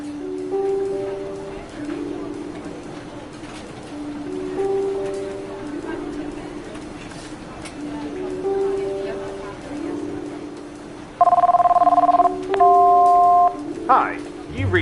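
An office desk telephone in a video game rings in repeated electronic tone patterns with short gaps, growing louder and more insistent near the end before voicemail picks up.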